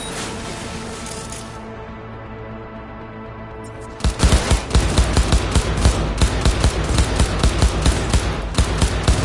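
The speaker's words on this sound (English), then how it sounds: "They're opening fire!" Rapid, loud video game gunfire breaks out partway through as enemies open fire, a steady rattling stream of close shots following a quieter, humming stretch.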